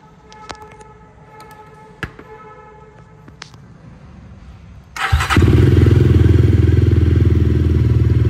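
A Jawa 42 Bobber motorcycle engine fires up after a few clicks and clatter, then settles into a loud, steady, deep exhaust rumble close by.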